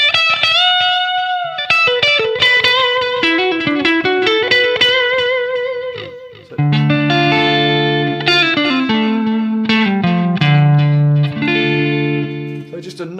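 A clean electric guitar tone plays through a Line 6 HX Stomp with the Phase 90 phaser and distortion switched off: ringing single notes and chords in a phrase, sustained and slightly ambient, alone and up close.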